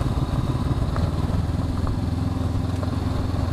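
A 2021 Honda CB500X motorcycle engine runs steadily while riding off-road, a continuous close, moderately loud rumble with a droning low hum and no talk.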